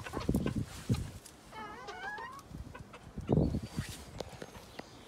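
Serama chickens in an enclosure with branches, making soft, close clucks in short bursts, with one higher, wavering trilling call in the middle, no talking.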